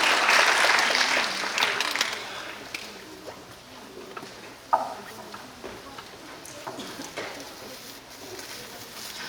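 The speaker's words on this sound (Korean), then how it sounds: "박수 한번 쳐주세요." Audience applause at a high school information session in an auditorium, loud and dense for the first couple of seconds, then thinning into scattered claps and room noise.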